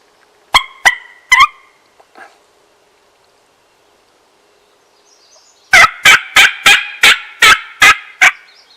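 Several wild turkeys gobbling during a New Hampshire spring turkey hunt: three loud, close gobbles early on, then after a quiet pause a rolling run of about seven more gobbles in quick succession.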